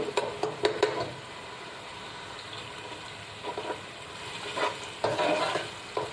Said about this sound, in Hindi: डेढ़ चम्मच मैंने अदरक का पेस्ट। तो थोड़ी सी देर के लिए 1 मिनट के लिए तकरीबन भूनेंगे।